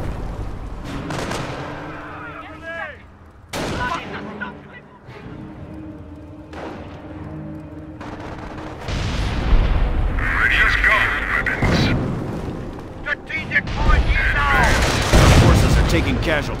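An artillery battery in a Company of Heroes Normandy battle fires heavy booms with rolling gunfire and explosions, while radio-style voices speak in between and over the shelling.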